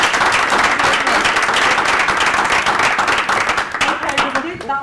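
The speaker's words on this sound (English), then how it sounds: "May I have another round of applause?" Loud, dense applause from an audience at a workplace improvement report-out meeting in Leeds, sustained clapping filling the whole stretch and thinning slightly near the end.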